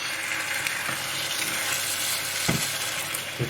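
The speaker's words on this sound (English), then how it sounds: "keep stirring it from the edges" Chicken pathia in base gravy sizzling and bubbling steadily in a pan, close and fairly loud, with occasional soft knocks of a stirring utensil against the pan's edges.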